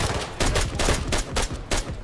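Rapid bursts of automatic gunfire in the Arma 3 military shooter, fired through a wall during a close firefight, loud and sustained with repeated volleys and short gaps between them.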